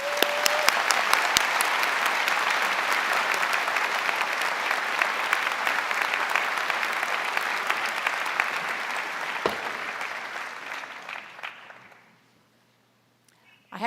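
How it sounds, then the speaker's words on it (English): Loud, sustained applause from a large audience at a university graduate commencement, dense clapping that continues for about twelve seconds and then stops abruptly, leaving near silence. "Let's give her a round of applause."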